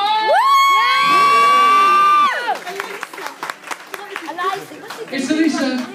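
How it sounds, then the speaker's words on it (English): An audience at a Kenilworth's Got Talent show greets a performer with a long sustained whoop, then a burst of scattered clapping, cheering and excited shouts from the crowd. "Can we have a nice round of applause, please, for Alicia Summer?"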